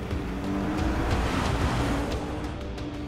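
An Infiniti Q50 with a 328-horsepower engine drives past in a steady, loud, continuous roar of engine and road noise that holds level throughout, with no voices over it.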